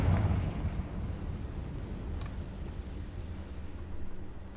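The Confringo blasting spell in Hogwarts Legacy bursts with a loud opening blast, then a sustained low rumbling roar that fades slowly over several seconds.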